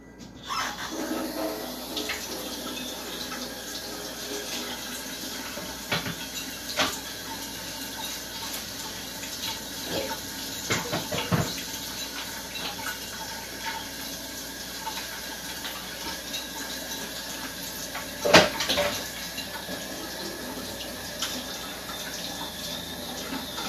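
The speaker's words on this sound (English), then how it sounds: "we're gonna wanna wash our hands" Tap water runs steadily into a kitchen sink while hands are washed, a continuous close hiss with occasional splashes and clinks throughout.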